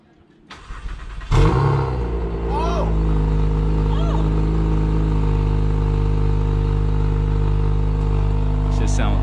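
An Acura TL SH-AWD with a crackle tune fires up with a sharp bang, then its exhaust settles into a loud, steady, close drone, with a few brief voices over it.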